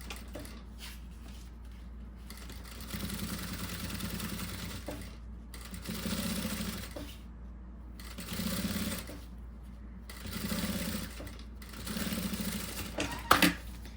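Sewing machine stitching the synthetic fabric and lining of a small cosmetic bag, several steady bursts of rapid mechanical humming with short pauses between, close and fairly quiet, with a sharp click near the end.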